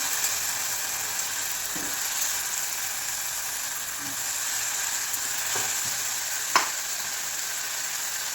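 Potatoes fry in hot oil in a pan with a steady, close, even sizzle, broken by a few light clicks of stirring.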